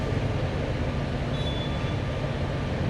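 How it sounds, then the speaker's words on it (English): A Fast & Furious: Hollywood Drift ride train at Universal Orlando rolls over the track switch, a steady low rumble and rattle of wheels on rail at moderate distance, with a faint high tone above it. "Then the train can navigate over the switch, traverse the spike, and head back towards it."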